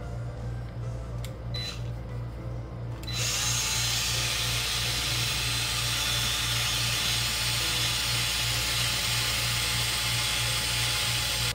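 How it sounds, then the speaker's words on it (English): A power drill bores a hole in a Mac Mini M4 for a DIY USB-C port mod, starting after a few quiet seconds and then whirring steadily and loudly close by until the end. "sometimes drilling a hole is oddly satisfying"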